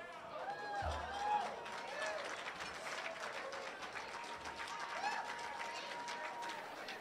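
A banquet hall audience at the Iron Dog Racer's Drawing Banquet applauds team number 16, a steady wash of many hands clapping at moderate distance while an announcer's voice carries over it.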